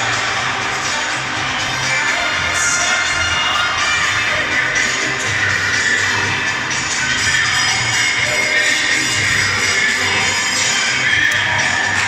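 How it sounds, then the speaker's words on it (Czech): Spectators at an ice hockey game between Mimons and HC Lev Praha make a dense, steady roar of crowd noise and shouting throughout, with drums and chanting mixed into the loud arena ambience. "slyším, že se sem tam ozývají diváci, ozývají se bubny a pokřiky"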